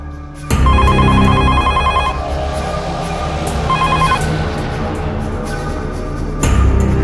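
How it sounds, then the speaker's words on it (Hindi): A telephone bell rings in a home, loud repeated trilling bursts in a steady pattern over a busy background of music and room noise, with no voices. "कितना टाइम लगा दिए फ़ोन उठाने में?"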